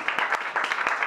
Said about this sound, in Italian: Un piccolo applauso di incoraggiamento